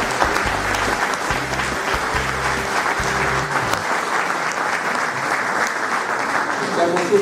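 An audience in Campobasso gives steady, full applause to welcome two guest speakers at a book event, with low rhythmic music thumping underneath for the first few seconds.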